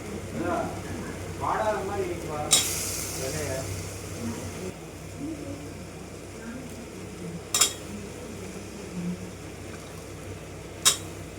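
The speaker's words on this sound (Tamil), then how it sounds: "காய் போட்டு கொஞ்சம் கிளறி விடணும்" Vegetables are stirred and sautéed in a pan for millet sambar rice, with a soft continuous sizzle under a talking voice and a few sharp utensil clinks against the pan spaced several seconds apart.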